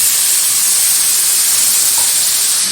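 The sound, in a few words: chicken added to pan of okra and potato curry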